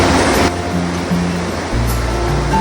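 Stream water flowing steadily along the Lakeshore Trail between Prince Creek and Stehekin, Washington, a close, loud continuous rush that shifts in tone partway through, with no voices.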